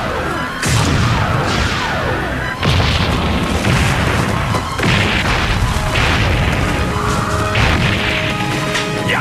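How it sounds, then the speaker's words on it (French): Cartoon explosions pound a castle under attack, a rapid series of loud booms and crashing smashes about every couple of seconds, with debris clatter and whistling tones between the blasts. "Ces explosions vont détruire le château à ce rythme-là."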